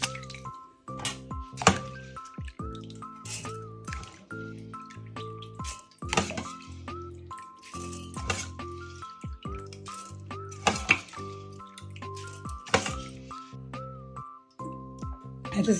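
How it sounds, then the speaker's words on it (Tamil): Rice being washed in water and drained for making appam, with wet squishing, dripping and occasional clinks of grains and vessel, close and fairly loud, interrupted by brief pauses, with voices talking in the background. "அரிசி கழுவி வடிய வச்சுருக்கிறேன்."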